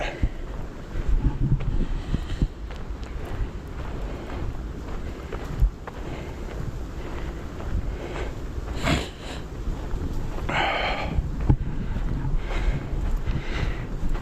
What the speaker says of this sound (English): It's still windy, I can hear it.